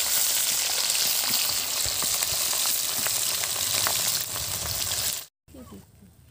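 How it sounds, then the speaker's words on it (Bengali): Fish fries in hot mustard oil in a kadai, a loud, close, continuous sizzle with crackling spatters that abruptly cuts off near the end, followed by quieter kitchen sounds. "মাছগুলোকে ভালো করে ভেজে নেব।"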